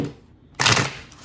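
Tarot cards being shuffled during a weekly reading, a short riffling burst of card noise that starts abruptly partway through and fades, heard alone at close range.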